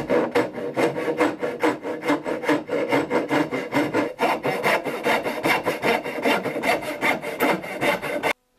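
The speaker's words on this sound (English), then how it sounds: "I'll just use a dovetail saw and cut this." Dovetail saw cutting through a split wooden chair-back tenon during furniture repair: steady back-and-forth rasping strokes in a regular rhythm, close and loud, with no talking.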